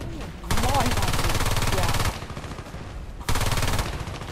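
Rapid rifle gunfire in the online shooter game Battlefield Play4Free, two loud sustained bursts of automatic shots with a quieter stretch between them, with a voice talking alongside.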